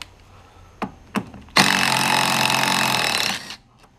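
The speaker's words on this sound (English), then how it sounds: "Take that bolt out. It's an M10 triple square." An impact or power tool removes an M10 triple square bolt from the steering swivel of a 2013 Audi A4 B8.5, a couple of sharp clicks followed by a dense, loud, steady two-second burst that cuts off abruptly.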